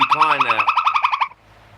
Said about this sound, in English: That's my monkey ringtone.